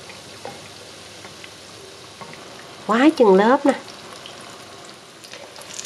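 Bánh gối pastries deep-fry in hot oil with a steady, soft crackling sizzle throughout, while someone speaks briefly midway.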